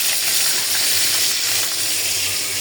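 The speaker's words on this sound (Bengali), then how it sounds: "সেই বোনা করার জন্য মাছগুলো আমি একটু ভেজে নিচ্ছি" Rohu fish pieces fry in hot oil in a wok, giving a loud, steady, close sizzle that holds unbroken from start to finish with no voices.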